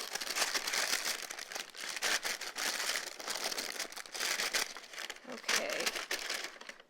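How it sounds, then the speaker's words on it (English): Parchment paper crinkles and crumples continuously as it is pressed down into an 8x8 baking pan, close and loud, in dense scratchy bursts. "Just push the parchment paper down."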